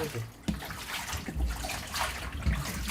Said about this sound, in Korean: 건져갖고 바로 물에다 넣어버리네. 찬물에다가.